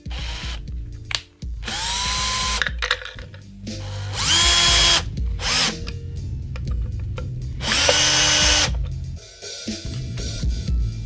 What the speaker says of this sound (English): Putting in the claw, and I'm going to use shorter screws.